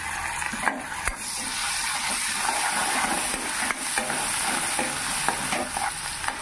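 Ginger garlic paste sizzles in a hot pan while being stirred, a continuous moderate crackle with occasional scraping clicks of a utensil against the pan throughout.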